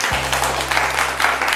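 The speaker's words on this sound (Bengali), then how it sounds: "আমরা শালিনীর জন্য আমরা একটা হাততালি দিয়ে নিই।" A store anniversary crowd gives a short burst of applause for a contestant, many hands clapping evenly over a low steady hum.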